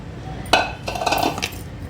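Boiled tripe tipped into masala in a cooking pot, with a short metallic clatter and clink of utensils against the pot followed by a brief soft sizzle and scrape, close and alone.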